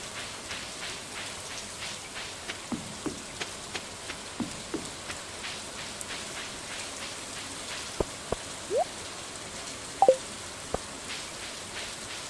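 Gentle rain in Stardew Valley, a low hiss of falling rain with sparse drip ticks and a few brief clicks, faint and steady with no voices.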